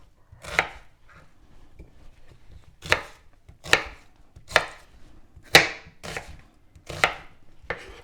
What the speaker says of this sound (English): we cut the red onion exactly the same in big chunks